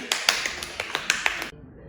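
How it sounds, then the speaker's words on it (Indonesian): A small round of hand clapping at an indoor podcast recording, a dozen or so quick, light, close claps over about a second and a half before cutting to near silence. "tepuk tangan dulu"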